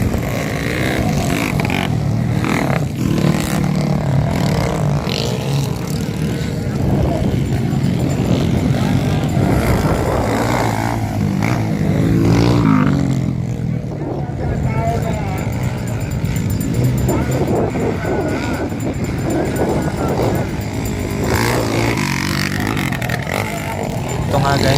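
Honda underbone motorcycles race in a motocross heat at an invitational event in Kabankalan City, their engines droning and revving continuously and loudly while a voice talks over the noise.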